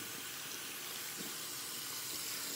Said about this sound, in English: Just want to rinse the brush out real quick.